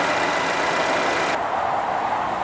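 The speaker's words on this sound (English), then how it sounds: "Here's a quick look at the engine. It is an Ecotec V6." The Ecotec V6 engine of a Buick Verano runs at a steady idle, a loud and even broadband hum that dulls partway through.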